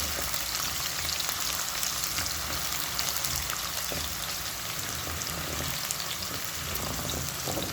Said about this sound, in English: Fry your onions until golden brown